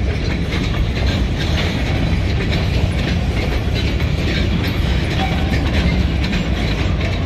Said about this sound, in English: Got a short train.